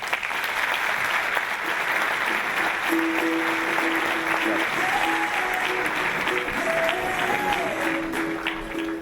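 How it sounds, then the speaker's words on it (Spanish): Audience applause at an innovation day conference talk on startup lessons, a steady dense clapping wash filling the whole span with some tonal musical notes entering partway through. "Un aplauso de nuevo para Ignacio."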